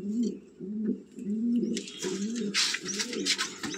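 Madrasi pigeons in a breeding loft coo in repeated low, rolling phrases, close by, while a burst of hissy rustling or flapping noise joins partway through.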